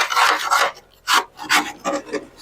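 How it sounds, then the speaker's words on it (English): Grass clippings are scraped off a lawn mower deck in a series of short, close, rasping strokes, about five bursts separated by brief pauses. "Let me get this deck cleaned out."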